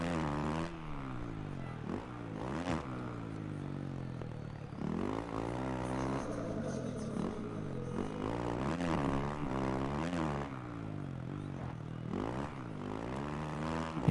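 450 motocross bikes climb a hill in the MXGP Pro racing video game, engines droning and revving up and down in rising and falling waves, fairly quiet overall with shifting pitch throughout.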